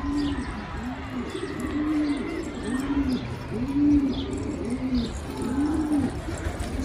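Pigeons coo repeatedly in a soft, rhythmic series of low, rounded calls, fairly close, with faint chirps from other birds in the background.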